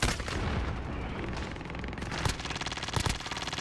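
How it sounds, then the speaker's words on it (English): Dense gunfire in a shooter video game: a continuous roar of rapid shots and heavy blasts, loud and close, with sharper bursts near the end and no talk. "I'm under fire."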